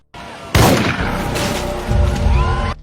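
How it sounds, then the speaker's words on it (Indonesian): A gunshot in a film lands as a loud sudden blast over a dense, rumbling dramatic soundtrack, with a second heavy boom rolling in near the end. "terdengar tembakan dan muncul berita kalau Presiden Amerika telah tertembak"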